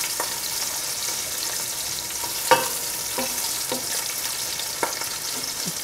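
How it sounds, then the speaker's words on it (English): Onions frying in a pan make a steady, bright sizzle throughout, with a few close scraping taps from stirring; no voices. "You fry the onions."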